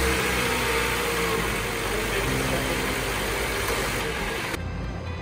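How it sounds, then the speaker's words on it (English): A car engine runs at a steady idle after an oil change, a continuous close mechanical hum and rumble that stays even throughout, with no voices. "So we're gonna start the car real quick."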